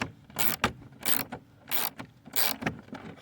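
A fence gate fitting being tightened down by hand, heard as repeated close ratcheting or scraping strokes in short bursts of about half a second, separated by brief pauses, with no talking.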